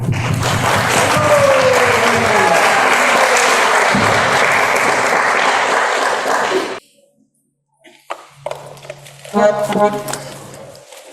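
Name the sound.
audience applause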